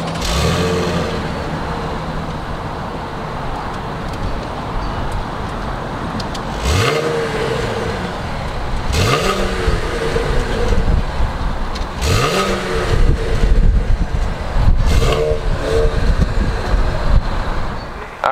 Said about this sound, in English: let's go ahead and start up this V6 so you can hear what it sounds like.